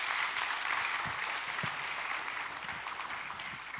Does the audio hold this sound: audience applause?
yes